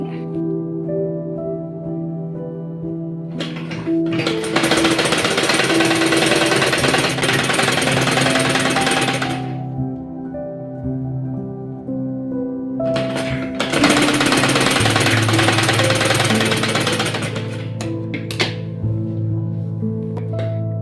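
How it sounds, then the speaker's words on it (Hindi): A sewing machine runs in two long bursts stitching a folded strip to the back of the fabric of a baby girl's dress, a fast loud mechanical rattle with a pause between, then a few short clicks. "कपड़े के उल्टे साइड से हम इसे लगाकर इस तरह से सिलाई लगाएंगे"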